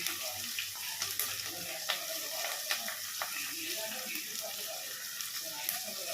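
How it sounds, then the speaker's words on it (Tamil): Chopped onions sizzling and frying in a pan for a Tamil mutton curry, a steady crackling hiss with occasional stirring clicks and scrapes, close and moderately quiet, with a voice faintly present. "இப்போது வெங்காயம் போட்டுடுறேன்."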